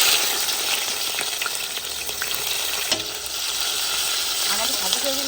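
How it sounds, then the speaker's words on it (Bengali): Chopped garlic and onion hit hot oil in an outdoor village cooking pan, giving a steady, loud, hissing sizzle with scattered pops and stirring clatter throughout. "এবার তেল কিন্তু গরম হয়ে গেছে, দিয়ে দেবো কুচি কুচি রসুন, কুচি কুচি পেঁয়াজ।"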